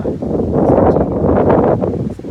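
A strong outdoor wind blows dust around, a loud continuous roaring buffet that sweeps and swells across the whole stretch.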